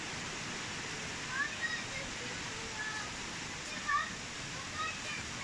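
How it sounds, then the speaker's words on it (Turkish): Hemşin (Akyamaç) waterfall in Rize, Türkiye, heard from a distance as a faint, steady rushing hiss of falling water that stays even throughout, with a few soft brief sounds over it. "şelalenin sesi gelmeye başladı"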